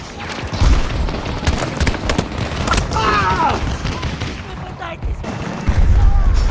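Shotgun fire in the video game Battlefield 2042 comes as several heavy booms mixed with other in-game gunfire and effects, loud and close, with talk over it.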